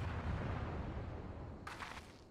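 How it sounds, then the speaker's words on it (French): Cannon fire in the video game Final Fantasy XIV: a dense, sustained rumbling barrage of booms fills the clip at moderate loudness, with a brighter burst near the end and no talk. "Des tirs de canon ?"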